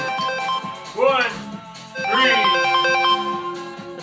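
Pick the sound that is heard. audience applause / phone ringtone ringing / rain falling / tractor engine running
phone ringtone ringing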